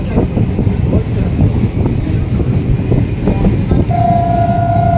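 A train rolls through a level crossing near a station, a loud continuous rumble of wheels and carriages close by, with a sustained horn tone entering near the end.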